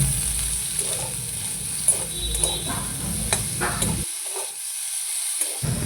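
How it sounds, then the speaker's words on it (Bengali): Eggplant slices fry in hot oil, giving a continuous soft sizzle and hiss with faint crackles. It stays close and steady, with a brief dip partway through. "ভালো করে ভাজা হয়ে গেলে এরপর আবার একই রকমভাবে বেগুনগুলোও ভেজে নেব"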